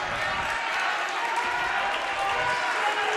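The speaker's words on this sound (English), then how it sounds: "They've got the faithful here at Junior Newsome Arena making some noise with the comeback" A basketball crowd at Junior Newsome Arena roars steadily for a Kentucky boys high school game during a comeback, with a broadcaster's voice running under the noise throughout.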